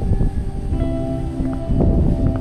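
Strong mountain wind blows through swaying trees near a tent, a steady close roar with gusts swelling and easing throughout, loud and continuous with no talk.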